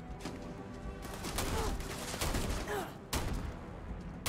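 Bursts of rapid gunfire from a gun in the video game Starfield rattle on continuously over a dense, noisy game soundscape, with no clear speech.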